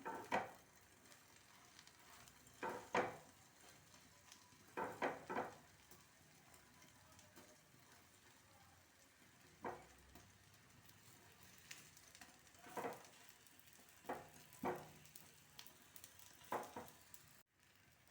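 Roti and raw egg omelette frying in a pan, a quiet steady sizzle broken by repeated soft scraping and stirring clatters at irregular intervals, with no talk.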